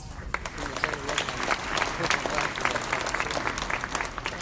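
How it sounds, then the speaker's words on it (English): A banquet audience at a small business of the year awards ceremony gives the nominated companies a round of applause, dense steady clapping from many hands filling the room at moderate volume. "Thank you for giving all these companies a big round of applause"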